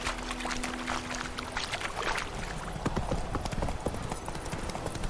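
Roach the horse's hooves clip-clop steadily in The Witcher 3 video game, a continuous rhythmic trot over ambient game sound with faint background voices.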